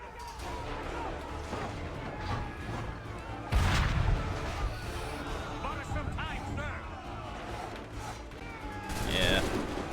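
Musket gunfire from soldiers in the Assassin's Creed III video game, with a loud volley crack amid continuous battle noise and scattered shots, another burst near the end, and voices talking over it.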